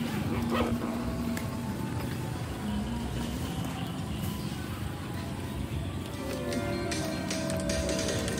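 A dog barks and yips amid a dense, noisy outdoor background, the calls blending into the steady din rather than standing out sharply.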